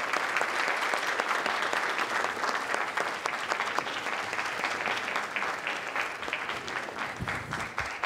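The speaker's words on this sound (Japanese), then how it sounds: "拍手でお迎えください。" Sustained applause fills a press conference hall as guests step onto the stage. The dense clapping from a large seated audience holds steady and loud for about eight seconds, with no voices over it.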